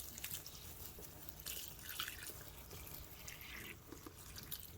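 Water pours and trickles into a container to soak paper for handmade papermaking, soft splashes and drips close by, fairly quiet, with no speech.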